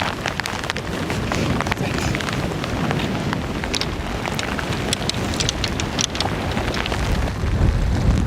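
Strong wind buffeting a golf course, a steady loud rushing roar with gusty rumble filling the whole stretch, no talking.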